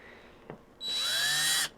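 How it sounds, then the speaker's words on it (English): A handheld power drill drives a screw in a makerspace workshop: after a small click, the motor whirs up to a loud, steady whine for under a second, then cuts off. "I'm going to get ready to screw this in"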